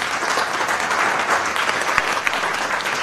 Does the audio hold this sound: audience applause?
yes